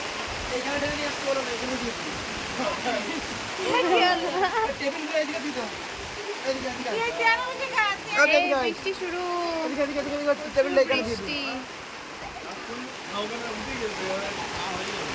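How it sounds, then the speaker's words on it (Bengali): Rain falls steadily over an outdoor ceremony meal, a continuous soft wash of drops on surfaces heard beneath people talking nearby throughout. "আবার বৃষ্টি চলে এসছে"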